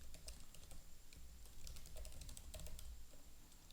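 Rapid, steady typing on a computer keyboard while HTML code is entered, with dense clicking keystrokes that continue throughout and no talking.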